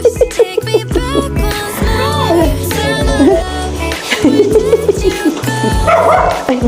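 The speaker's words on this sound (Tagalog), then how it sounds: "Ay, may aso." A dog barks several times in quick bursts at close range, with tonal yelps mixed in and some background noise around it.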